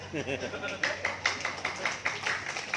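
Sparse, scattered hand claps from a church congregation, a handful of people clapping unevenly with a murmur of voices underneath, fairly near and modest in volume.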